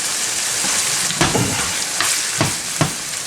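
Ground beef and mixed vegetables sauté together in a hot pan with a dense, close crackling sizzle. A few sharp stirring clatters punctuate it, and no one speaks.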